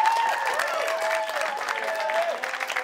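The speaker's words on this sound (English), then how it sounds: "Give a round of applause." An audience at a school performing-arts production of 'Little Shop of Horrors' applauds in a dense, steady wash of clapping that holds level throughout, with a faint tonal sound lingering underneath.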